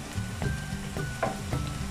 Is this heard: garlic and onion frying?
yes